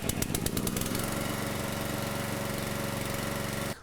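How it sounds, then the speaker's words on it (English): A RuggedSplit 500-Series log splitter's gasoline engine fires up and runs loud and steady with a dense mechanical drone, then cuts off abruptly at the very end. "now we're going to start the engine and test out our hydraulic system"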